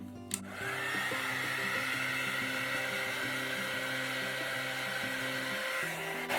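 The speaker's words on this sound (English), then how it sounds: "I'm going to hit that with the heat embossing tool just to try and bring up some more cells" A heat embossing tool blows hot air over poured acrylic paint in a fluid art piece, a steady, loud motor whine and rushing airflow that starts with a click and runs for several seconds before cutting off.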